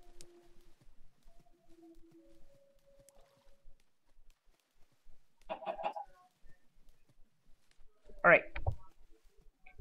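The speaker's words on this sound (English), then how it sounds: "I saved a chicken." A chicken in the Minecraft video game clucks in a couple of short bursts toward the end, alongside quiet game tones and sounds of a boat on water, with a person speaking now and then.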